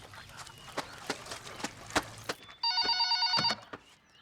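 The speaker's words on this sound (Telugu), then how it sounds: "ఫోన్ వస్తుంది, ఎవరో చూడు" A telephone bell rings in one bright, trilling burst, preceded by scattered soft knocks and taps in a quiet room.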